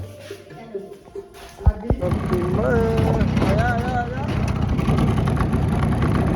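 A scooter engine starts up and runs steadily as it rides away, a buzzing hum that holds close by, while voices talk over it and a short thump comes first.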